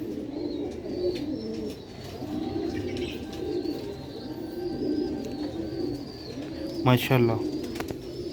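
A Sialkoti silver roof pigeon coos softly in repeated low phrases close by, with someone talking quietly over the calls and a brief louder chirp near the end.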